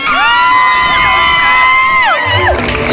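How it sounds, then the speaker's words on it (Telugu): A crowd cheers, whoops and shouts loudly and continuously during a ramp walk at a talent show, with high shrill voices sweeping up and down before tapering into general clamor. "అసలు మేమైతే ఎలా అరుస్తున్నామో చూడండి."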